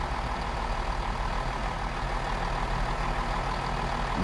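A Class 166 diesel train slowing under braking in Train Sim World 2. It gives a steady, loud mechanical rumble with a constant hiss and no distinct peaks throughout.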